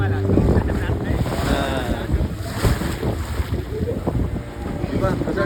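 A boat rides out on the open sea at Devbag, with a steady rush of water and wind buffeting the microphone throughout, plus low rumbling and faint background voices.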